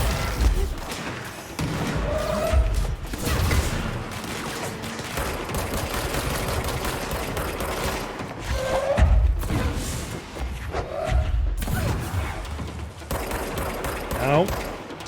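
Enemy gunfire in the game Control keeps up almost continuously as rapid bursts and thuds, loud and dense throughout, with occasional whooshing effects and someone talking over the fight.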